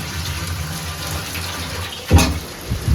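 Tap water runs steadily as rice is rinsed in a home kitchen, a continuous splashing wash that swells into a louder gush near the end, with no voices.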